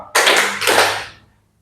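A class plays a clapping ice-breaker game, giving two loud, close bursts of group claps in quick succession that then fade into silence.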